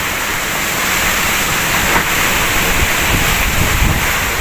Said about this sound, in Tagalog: sobrang lakas, napakalakas ng hangin.